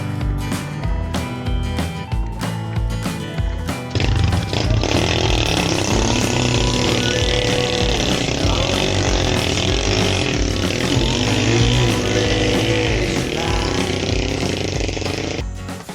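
A motorcycle engine revs hard and strains steadily, loud and close, with rough clattering as it labors uphill on a rough road.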